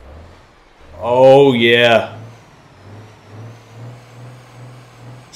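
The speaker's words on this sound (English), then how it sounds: "Start him up in the old Mack truck." A low, steady Mack truck engine rumble in a video game runs throughout, with someone speaking briefly over it near the start.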